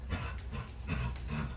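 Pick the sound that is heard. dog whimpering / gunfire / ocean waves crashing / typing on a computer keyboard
dog whimpering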